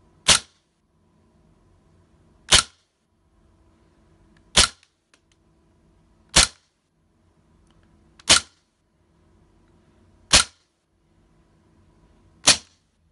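A CO2-powered BB pistol fires over a chronograph, six sharp, loud cracks spaced about two seconds apart, with faint mechanical noise between shots.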